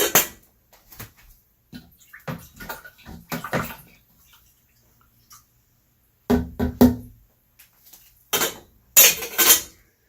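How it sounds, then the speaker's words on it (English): Mango wine must is stirred in a container, giving scattered wet sloshes, knocks and clinks against the sides in short bursts separated by pauses, close and fairly loud, with no voices. "Give that a little stir."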